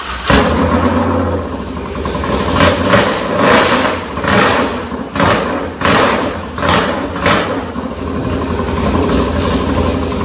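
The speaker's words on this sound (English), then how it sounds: "Today we're going to start up our Norton Domiracer" Rare hand-built British Norton Domiracer motorcycle, one of 50, fires up close by and runs loud, its engine revved in repeated surges and drops between steadier idling.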